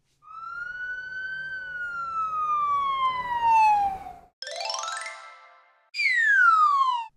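Police car siren from a children's nursery song, rendered as a loud synthesized tone with long descending wails followed by short rising and falling sweeps, alone with no voices.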